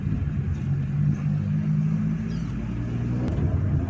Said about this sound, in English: You do hear the purr of the engine, but it's not intrusive